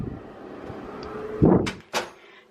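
A bathroom door is pushed open against clutter behind it, a muffled thump of wood and a short scrape followed by a second knock, close and fairly loud.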